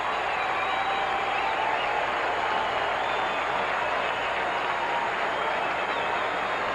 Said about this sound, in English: Fans and teammates alike applauding that.